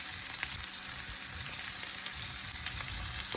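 Green chillies and onions fry in hot oil in a pan for a green eggplant dish, giving a constant close, crackling sizzle with faint stirring and no talk.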